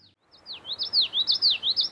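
Nashville warbler singing in a Maine bog, a quick series of high, sweet chirping notes that repeat rapidly and grow louder, a single bird fairly close against quiet background.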